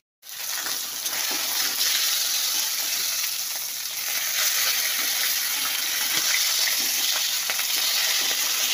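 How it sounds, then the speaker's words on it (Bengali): Fish head frying in hot oil in a pan, a steady loud crackling sizzle that starts abruptly and continues unbroken, close up, with no talking. "আর মাছ ভাজা হচ্ছে।"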